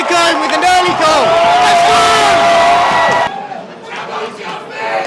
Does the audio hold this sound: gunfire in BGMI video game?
no